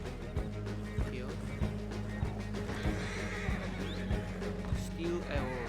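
Horse neighing inside the video game Fortnite, a whinny rising over busy game audio with a steady music bed, footstep-like thumps and a person talking throughout.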